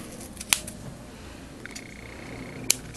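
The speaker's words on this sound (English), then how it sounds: "And then you get my foam tape, cut myself a" Small micro-tip scissors snip a strip of foam tape in two crisp, close cuts spaced about two seconds apart, with a faint tape rustle between them in an otherwise quiet room.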